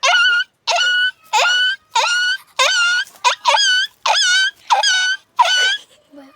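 A man imitates a dog with about nine whining, howling yelps in a steady rhythm, each loud and close, separated by brief silences.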